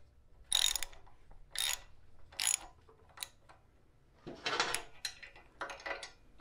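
A threaded insert is driven into stripped threads with a ratcheting tool, heard as five or six close, distinct bursts of clicking ratchet strokes separated by short pauses in a quiet room.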